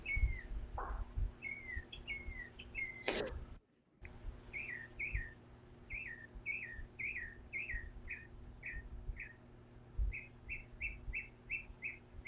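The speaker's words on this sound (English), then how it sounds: "I love that bird." Small birds in trees sing repeated short chirping, whistled phrases in steady rapid series, moderately near over a low background hum, with one brief sharp knock partway through and no talking.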